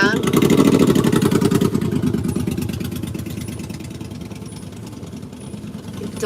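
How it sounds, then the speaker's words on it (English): Motorcycle engines rumble loudly through a downtown street parade, a dense idling and revving drone with pulsing firing beats that swells early then eases slightly, with people talking underneath. "I don't like motorcycles."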